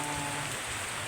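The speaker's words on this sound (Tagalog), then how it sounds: "Ito na puro ulan dito sa atin." Heavy monsoon rain from the southwest monsoon (habagat) in the Philippines during a super typhoon, a dense steady roar of rainfall that fills the whole short moment without a break.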